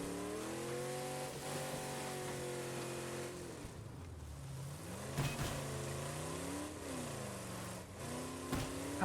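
Car engine in the video game State of Decay 2 straining up a hill, revving in rising and falling surges with a short dip midway, steady and moderately close, no talk.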